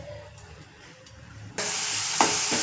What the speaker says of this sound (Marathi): तेल तापलं की आपण ह्याच्यामध्ये कुटलेली जिरं, हिरवी मिरची आणि लसूण जास्त टाकायचं